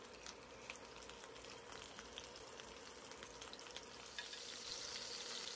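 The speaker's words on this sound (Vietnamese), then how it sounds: "Khi mình chiên lên con khô nó rất là thơm" Dried fish sizzles in a pan of hot oil with crushed garlic cloves, a dense, steady crackle of frying with small pops, getting a little louder toward the end, no voices.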